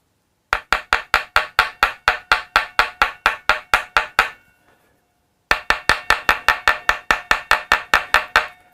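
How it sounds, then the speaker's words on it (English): A small planishing jeweler's hammer taps the nitro finish of a Gibson Les Paul guitar in a fast, even series of sharp, close knocks, pausing for about a second before another steady run of taps. "A jeweler's hammer, says Nick Jones, so yeah, a little planishing hammer."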